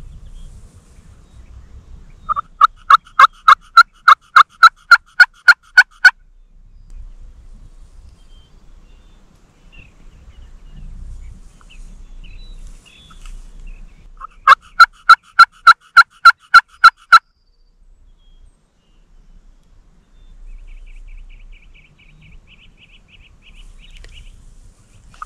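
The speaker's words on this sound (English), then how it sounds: "Oh, there's a gobble." A wild turkey gobbles twice in rapid rattling bursts, well separated by quiet stretches, sounding moderately distant in open spring woods with faint rustling between calls.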